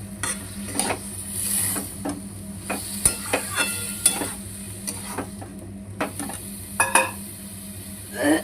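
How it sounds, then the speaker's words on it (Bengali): Banana stem curry stirred in a pan, with repeated sharp scrapes and clinks of a spoon against the metal over a soft, steady sizzle, close by with no talking. "এবারে একটু নাড়াই"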